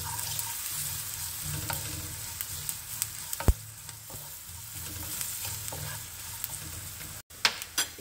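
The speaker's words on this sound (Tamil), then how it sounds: "இது எல்லாத்தையும் போட்டு நல்லா மிக்ஸ் பண்ணிக்கோங்க." Coriander powder and spices, including a fenugreek and mustard powder, fry in a pan with a soft, steady sizzle while a spatula stirs, giving occasional sharp taps and scrapes against the metal.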